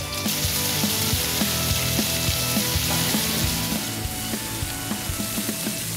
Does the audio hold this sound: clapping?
no